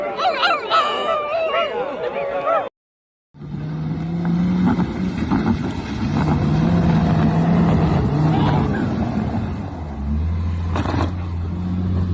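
Dogs bark and yip repeatedly amid a noisy protest crowd, with a steady engine-like drone and vehicle noise underneath, broken by a brief silent gap.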